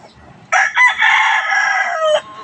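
A Boston Roundhead gamecock, a two-time open-air cross winner from a farm, gives one loud, close crow lasting nearly two seconds, with a brief dip partway through and no other sound around it.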